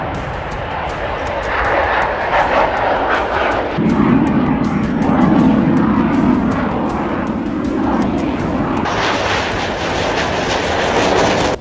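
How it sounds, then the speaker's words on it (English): Fighter jets coming in to land near a Top Gun: Maverick filming location, a loud continuous jet engine roar that swells midway and then brightens with a higher whine, steady and close throughout. "fighter jets are coming in on this landing"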